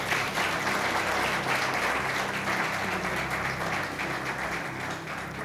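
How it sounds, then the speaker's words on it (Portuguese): Church congregation applauding during a sermon, sustained broad clapping from many hands that holds steady for several seconds and tapers slightly toward the end, with no speech on top. "Você pode aplaudir o Senhor aí"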